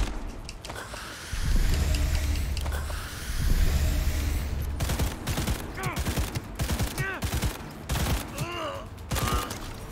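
Gunfire from a gun in Cyberpunk 2077 rings out in rapid bursts of sharp, punchy shots with mechanical clatter, building in intensity through the second half amid other game effects.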